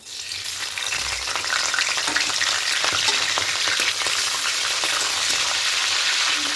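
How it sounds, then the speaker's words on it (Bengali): Whole cumin, dried red chillies and bay leaves crackle and sizzle steadily in hot mustard oil, a close, dense frying hiss with scattered sharp pops and faint stirring throughout. "এবার এখানে ফোড়নও দেবো গোটা জিরে শুকনো লঙ্কা আর তেজপাতা"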